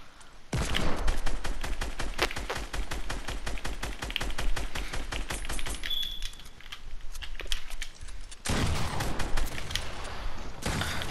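Rapid repeated bomb explosions in a video game, a dense run of sharp bursts at a fast steady rhythm lasting several seconds, a brief pause, then more loud blasts.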